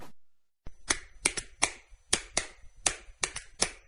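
Hands clap sharply about a dozen times in an uneven rhythm after a brief silence, each crack close and crisp, with no talking.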